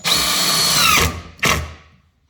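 A power drill drives screws into cleats while a cabinet is assembled, with one long, loud, close whirring run of about a second followed by a shorter second burst before it falls silent.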